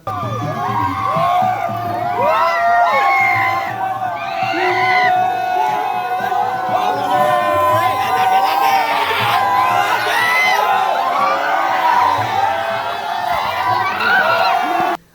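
A lively crowd cheers for young children in kattalan tribal-hunter costumes at a Vairankode performance, with loud shouts, whoops and children's voices overlapping near and far, and talk mixed into the din throughout.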